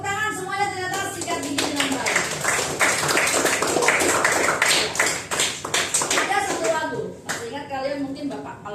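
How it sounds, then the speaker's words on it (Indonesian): Children clap together in a burst of rapid, uneven hand claps, with a voice speaking over the start and end. "tepuk tangan semuanya"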